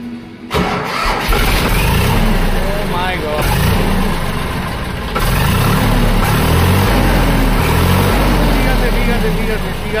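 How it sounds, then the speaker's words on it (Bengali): A used tractor's engine cranks and catches, then runs loud and close with a steady low diesel throb that swells once partway through, while a voice talks over it. "তো ফাইনালি ভাই গাড়িতে উঠে গেছে, এবার গাড়িটা স্টার্ট দিচ্ছে।"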